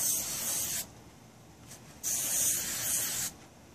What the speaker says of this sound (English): Spray the living shit out of it first